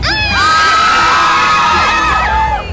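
Fans at a tour event scream and cheer, a loud, close wall of high-pitched shrieks and shouts that swells and holds for a few seconds.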